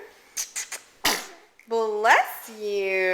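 A baby sneezes once, a short sharp burst, followed by an adult voice speaking and then a loud, drawn-out infant vocalisation.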